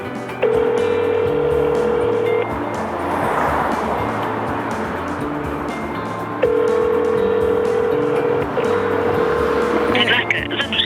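Phone call to an apartment sales office: a steady dial tone sounds twice for a couple of seconds each, separated by ringing gaps, with a voice talking and background noise throughout.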